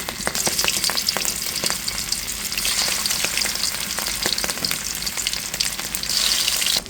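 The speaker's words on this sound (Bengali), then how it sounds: "ইলিশ মাছ ভাজার জন্য সরিষার তেল দিয়ে দিচ্ছি" Hilsa fish pieces frying in hot mustard oil, a loud, continuous crackling sizzle with dense popping spatters that holds steady throughout, close by and with no talk.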